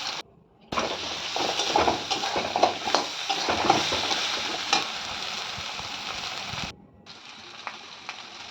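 Ginger, garlic, onion, chilli, cumin, coriander, turmeric and Kashmiri red chilli powder fry in a pan with a steady, close sizzle and scraping stirs, the sound cutting out briefly near the start and again toward the end.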